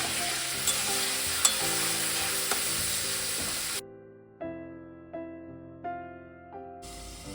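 Green chillies frying in a pan for a pomfret curry make a bright, steady sizzle with scattered stirring clicks, then cut off sharply after water is added, leaving a few soft tonal knocks and faint bubbling.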